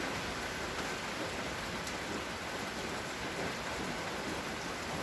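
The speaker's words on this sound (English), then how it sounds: "But then it started to rain after." Steady summer rain falls on an outdoor afternoon, forming a dense, even hiss that stays constant from start to finish with no distinct drops or voices standing out.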